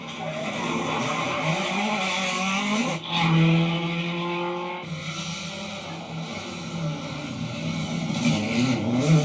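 A rally car drives past on a tarmac stage, its engine note steady and mid-distance, with a louder surge and a brief skid or tire scrub partway through, then continuing.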